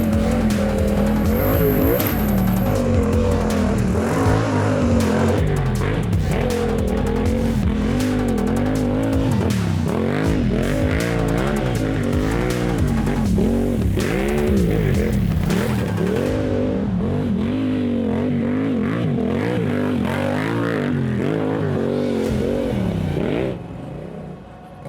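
A Yamaha MT-07 motorcycle ridden through ruts on a motocross track, its engine loud and close, revving and bogging in constant rising and falling surges for the whole stretch before easing off at the end.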